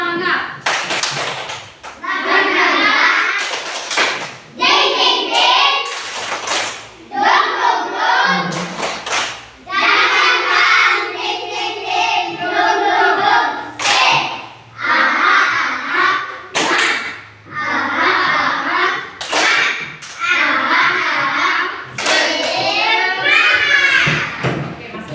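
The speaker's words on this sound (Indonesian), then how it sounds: "Semua berdiri dulu. Tepuk semangat." A third-grade class of children performs a rhythmic tepuk semangat spirit clapping routine, with sharp bursts of group claps in patterned beats mixed with children's voices chanting along.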